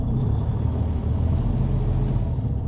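Truck rolling slowly in low gear at about 5 miles an hour during an air brake test, a continuous low engine rumble that stays steady and close for nearly three seconds without speech.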